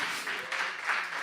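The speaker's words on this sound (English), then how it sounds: "Yes, we can clap." An audience applauds a performer, a dense, steady wash of clapping from many hands throughout the short stretch.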